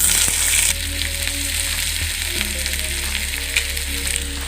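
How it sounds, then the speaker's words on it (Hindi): Onions dropping into hot oil in a kadai, a loud close sizzle that jumps up at the start and then settles into a steady frying hiss. "तेल गरम हो चुका है। अब प्याज डाल देंगे।"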